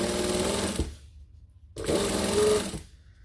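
A sewing machine stitches fabric piping in two steady whirring bursts with a short pause between them, loud and close, with no talk.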